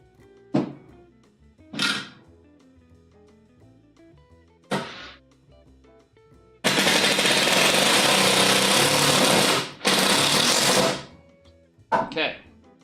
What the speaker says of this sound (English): I'm gonna go ahead and zip another screw